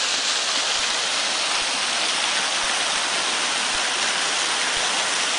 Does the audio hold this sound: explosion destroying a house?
no